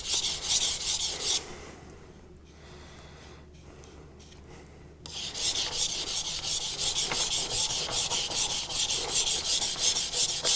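Kitchen knife being sharpened on a 400 grit whetstone, loaded with slurry: steady rhythmic rasping strokes, close and loud, that pause for a few seconds of near quiet before resuming in a continuous fast back-and-forth scrape.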